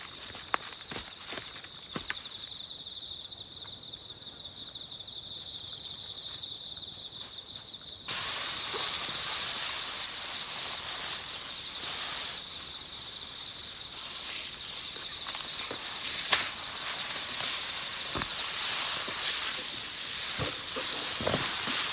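Water spraying onto cabbage seedlings in a field, a soft steady hiss that jumps to a loud, bright rushing spray about a third of the way in and continues to the end, with crickets chirping faintly in the background.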